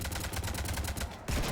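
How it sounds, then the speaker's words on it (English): Gunfire in Mass Effect Legendary Edition: a dense, loud burst of repeated shots in steady rapid succession for over a second, cut by a brief gap before another sharp report. "Let me just shoot her before she can monologue."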